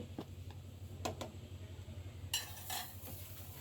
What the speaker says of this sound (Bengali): এখন এটা ঘন ঘন নাড়তে হবে